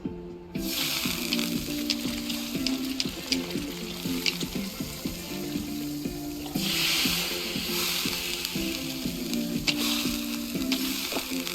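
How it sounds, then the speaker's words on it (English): Noodles and sauce sizzle loudly and steadily on a big flat round grill, with bright scraping and clicking from utensils and a louder burst of hissing partway through. "cooking it on a big, flat, round grill"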